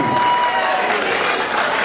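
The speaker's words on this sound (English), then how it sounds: "give them a huge round of applause one more time" A crowd at a fundraising dance show applauds the judges with loud, dense clapping and some cheering, steady and close for the whole short burst.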